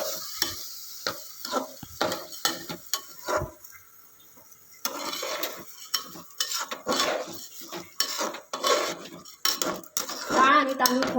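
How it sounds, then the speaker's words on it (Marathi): Dal and rice stirred into hot tempering in a cooking pot for dal khichdi, heard as close, repeated metal spoon scrapes and clinks against the pot over a soft sizzle, with a brief quiet pause partway through. "आता आपण हे डाळ आणि तांदूळ चांगले मिक्स करून घेऊया।"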